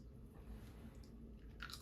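Crunchy curry-coated Japanese snack chewed close up, a quiet steady crunching and munching for a couple of seconds with no talk.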